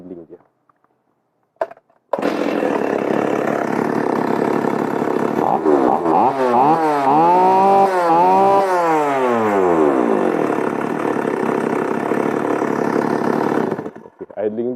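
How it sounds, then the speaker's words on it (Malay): A second-hand chainsaw engine is restarted, revs up and down a few times, then settles into a loud, steady idle close by before cutting off near the end. "saya start balik kita tengok idling dia"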